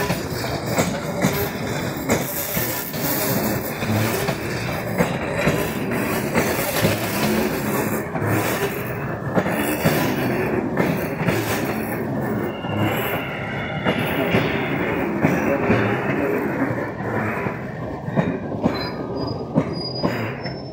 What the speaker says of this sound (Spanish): Está ingresando una formación CCR a Estación Moreno, el número 12.